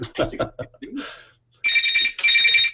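A telephone rings twice in steady electronic bursts, each about half a second long, right after a person finishes talking in a home or office setting.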